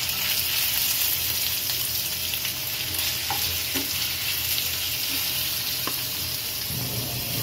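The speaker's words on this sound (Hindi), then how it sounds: "हाई फ्लेम पे मैं यहाँ कड़ी फ्राई कर रही हूँ" Kardi fries in a pan over a high flame, giving a loud, continuous sizzle with occasional light stirring scrapes, close up and without talk.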